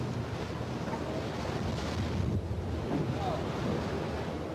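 Ocean waves surging around a sinking ship at sea, a continuous loud roar of surf and wind noise with no break.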